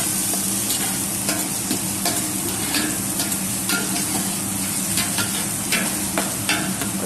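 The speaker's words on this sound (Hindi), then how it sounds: "अच्छे से प्याज को हल्का ब्राउन होने तक भून लेंगे" Onions fry in hot oil with bay leaves and a two-inch piece of cinnamon stick, giving a constant close sizzle that is broken by soft scrapes as the pan is stirred. No one speaks.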